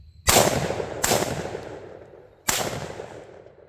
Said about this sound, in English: Now, here is the test of hip shooting.